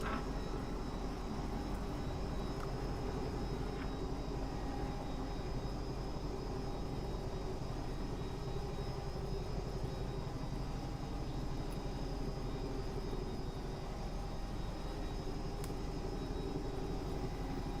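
A Bell 222 helicopter in X-Plane 11, its engine and rotor giving a steady, unbroken turbine drone at constant loudness throughout, with no talking.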